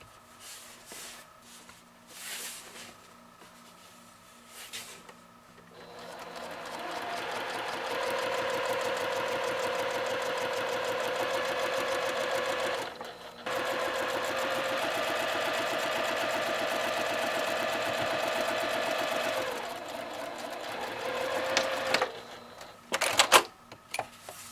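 A sewing machine hems hammock fabric, running in long steady whirring bursts with a brief pause in the middle, surrounded by quieter handling clicks before and after.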